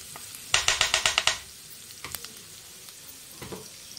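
Almonds fry in ghee with a bright sizzle, broken by a quick run of about seven rhythmic stirring scrapes, then a few scattered taps over the steady crackle.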